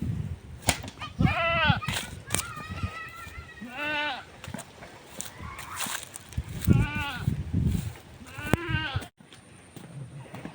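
Goats on a farm bleat repeatedly nearby, quavering calls that overlap and recur throughout, mixed with footsteps, rustling and occasional voices in the background.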